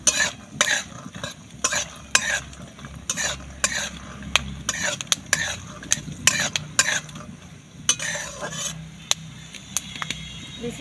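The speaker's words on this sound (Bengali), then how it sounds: "বাদামগুলো একটু ভেজে নেব।" Peanuts frying in a pan, stirred with repeated quick metallic scrapes and light rattles over a low steady sizzle, close up with no talking.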